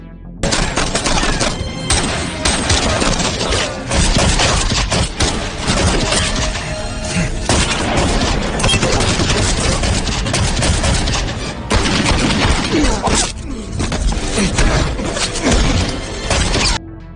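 Dense, loud gunfire from a film firefight, with rapid bursts and volleys of shots mixed with crashes and shattering impacts running almost continuously throughout.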